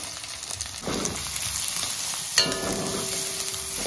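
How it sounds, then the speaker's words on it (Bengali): Carrots frying in hot white oil in a wok, with a steady sizzle and occasional stirring scrapes, a sharp clatter partway through, and no talking. "প্রথমে গাজরগুলো ভেজে নেব।"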